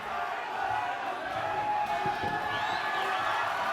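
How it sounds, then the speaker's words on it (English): A crowd at a Muay Thai fight roars and rallies in the closing stages, a continuous dense wash of cheering and shouting at steady loudness. "The crowd rallying on Kurt Finlayson in the dying stages of this fight"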